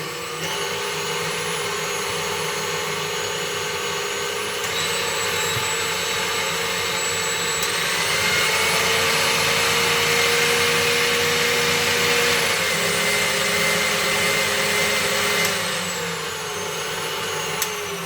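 A KitchenAid Artisan 5-quart stand mixer runs at a high speed setting, its motor giving a loud, steady whine with a rising pitch step midway and a slight drop toward the end, no voices present.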